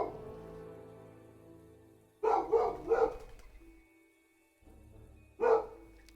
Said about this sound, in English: It's like, ugh, this dog. This dog. So much noise.